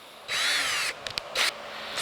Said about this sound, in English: So I've got a 21/64 drill bit here